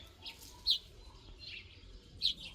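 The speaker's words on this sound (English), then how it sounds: "Two birds here. The third one up on the palm tree." Birds near a palm tree give short, bright chirps: two sharp calls about a second and a half apart, with softer chirps around them, against a quiet outdoor background.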